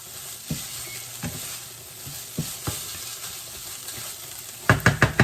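Food fries in a pan over medium heat with a soft continuous sizzle, broken by a few scraping stirs and a louder burst of clattering stirs near the end.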